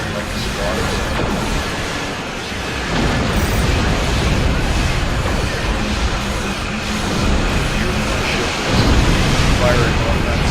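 Ship weapons firing in Star Trek Online, a dense, continuous roar of blasts and crashing impacts that swells louder near the end, with faint talk underneath.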